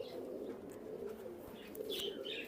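A pair of jira pigeons at a farm coo softly and steadily, a low continuous murmur with a few faint chirps and light rustles above it, close by and without talk.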